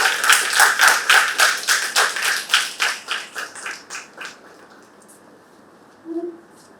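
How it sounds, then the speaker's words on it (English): A few people applaud at a youth debate event, sharp distinct claps in a fairly even rhythm that soften and die away, followed after a pause by a short spoken phrase. "Please give her a big round of applause."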